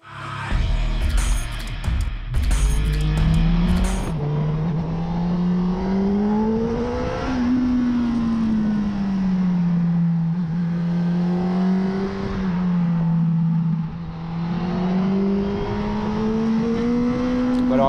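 A Honda CB Miller Black Edition motorcycle engine runs steadily on a test ride, its tone rising and falling with throttle changes, close and loud throughout after a brief burst of louder noise at the start, with no talking.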